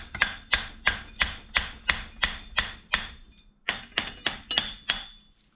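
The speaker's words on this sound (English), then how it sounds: "I've just been tapping it with the hammer here" A hammer taps a metal turbo housing on a Volvo V70 AWD 2.3L T5 in a steady run of about fifteen sharp, ringing strikes, with a short pause partway through, close and fairly loud.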